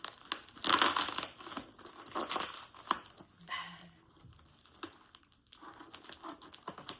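A heavily taped package is torn and crumpled open up close, with sharp crinkling, ripping bursts and scattered rustles and scrapes.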